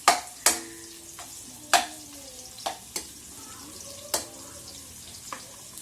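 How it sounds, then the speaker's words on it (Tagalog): Dried pork sautéing in a pan for ginisang upo: a steady close sizzle broken by several sharp spatula clanks and scrapes against the pan, with no talking. "nilagay ko na nga po pala yung dried pork natin. Yan, gisa lang natin to become magmantika-mantika."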